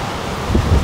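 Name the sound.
strong wind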